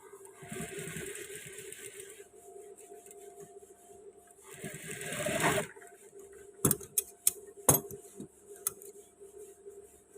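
A sewing machine stitches a waistband in two whirring runs, then falls quiet. A few sharp clicks and taps follow.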